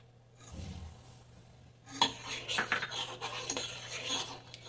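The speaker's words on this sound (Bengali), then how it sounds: "এবারে সুজিটা ভালো করে দুধের সঙ্গে মিশিয়ে নেব।" A spoon stirs semolina into boiled, thickened milk in a pot, making a pitha filling. After a quiet start, close scraping and metallic clinks against the pot repeat steadily to the end, with no talk.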